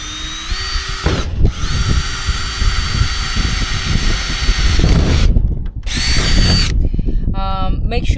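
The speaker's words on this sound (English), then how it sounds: "With my drill I'm gonna make some holes" A power drill bores holes in a trailer roof, its high motor whine rising and holding in several long runs broken by short pauses, loud and close.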